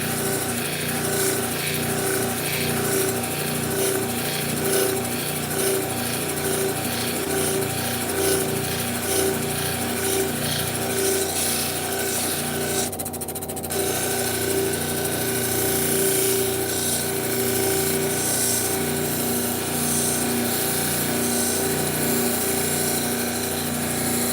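A power tool polishing quartz rocks glued together, running continuously with a steady whirring, grinding drone and a brief dip midway, loud and close throughout.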